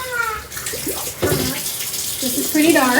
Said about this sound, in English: I am going to rinse this out